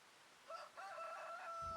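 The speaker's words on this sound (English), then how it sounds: "they're little baby chickens and roosters" Chickens and a rooster in the farming game Farming Simulator 25: a short burst of clucking and crowing from the fowl, moderately loud, with no talk over it.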